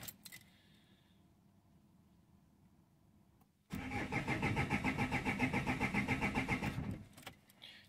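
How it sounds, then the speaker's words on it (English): A Renault Master Mk2 with the G9U 2.5 dCi 120 diesel cranks on its starter without catching. Quiet hum, then about three seconds of loud rhythmic churning that stops abruptly, with no voices. "I'm gonna give her a few cranks and see what happens."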